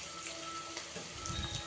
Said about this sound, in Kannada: ಎಣ್ಣೆಲಿ ಚೆನ್ನಾಗಿ ಬೇಯಬೇಕು. ಬ್ರೌನ್ ಕಲರ್ ಬರೋ ತನಕ ಇದನ್ನು ಫ್ರೈ ಮಾಡೋಣ.